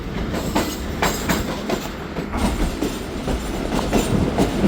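The Zakariya Express, a 41-wagon passenger train, runs along the rails with a steady rhythmic clickety-clack of wheels over joints and a continuous rolling rumble, close and fairly loud.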